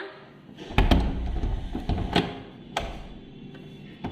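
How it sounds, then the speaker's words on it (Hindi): A household door is pushed shut, giving several knocks, clicks and rattles over a few seconds before a final latch sound, close by and with no talking. "दरवाजा बंद हो रहा है"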